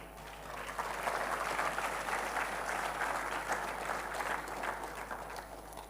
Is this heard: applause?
yes